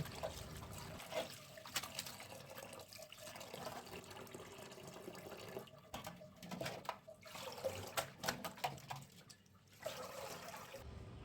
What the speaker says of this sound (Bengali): তো আমরা লাউ শাকগুলো কেটে নিয়েছি, এখন এগুলোকে ভালো করে ধুয়ে নিব।